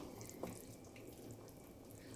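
Water runs and splashes steadily into a pot for Mexican rice, a continuous soft rushing sound at moderate distance with no voices over it.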